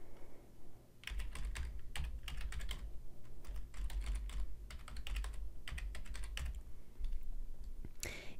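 Typing on a computer keyboard while entering email server details, with rapid bursts of close, crisp key clicks separated by short pauses over a low background hum.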